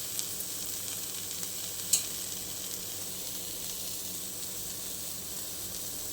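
Fish pieces shallow-frying in oil give off a steady, quiet hiss, with one small sharp pop partway through.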